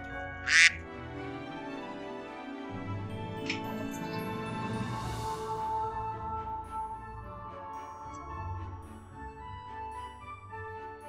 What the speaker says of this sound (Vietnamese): Con ngỗng kia rồi.